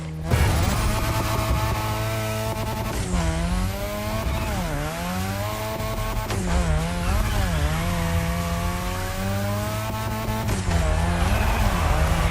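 A car drifting around a drift track in The Crew Motorfest, its engine revving high and falling in sweeping waves while tires squeal continuously, loud and close, with sharp shifts in pitch as the car slides through turns.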